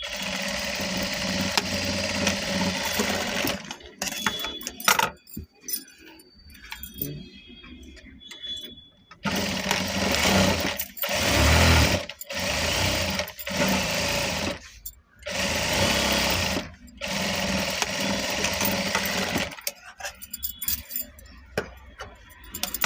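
A sewing machine runs in several bursts of rapid mechanical stitching, close and steady, while sewing the side seam of a ready-made blouse being altered, with brief pauses and a voice speaking between runs.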